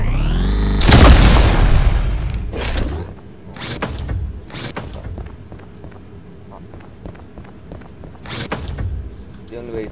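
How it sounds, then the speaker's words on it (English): A heavy explosive charged shot fires in the fast-paced shooter game Ultrakill, a loud booming blast followed by scattered mechanical clanks and impacts that fade into quieter action. "The right button, fire an explosive,"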